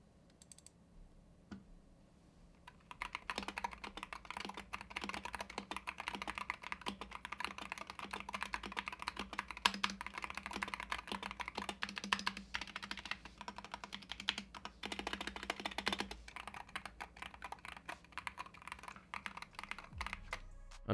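Steady typing on a stock mechanical gaming keyboard with Hall Effect magnetic switches, a dense, continuous patter of light clacks for nearly twenty seconds, close and clear with no talking.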